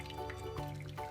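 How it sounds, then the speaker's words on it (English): Hot water poured into a roasting pan around cheesecake molds: a short, quiet trickle with a few soft drips and splashes, heard alone with no talking. "Now take your boiling water, or just hot water, and pour it into the pan, trying not to get water into the molds."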